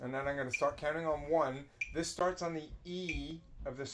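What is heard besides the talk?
No everyday noises stand out.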